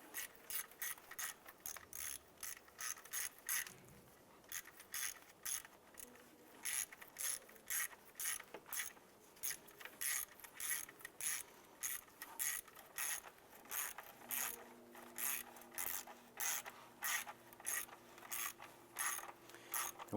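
Ratchet tightening a bolt on the intake manifold of a 2011-2019 Ford Fiesta, a steady run of quick, close clicks repeating for the whole stretch with brief pauses, no talk.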